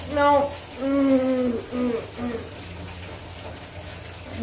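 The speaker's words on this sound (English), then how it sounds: "Turn on boiling hot water." Boiling hot water runs from a shower tap as a steady broadband hiss, with a person talking over it at first before the water continues alone.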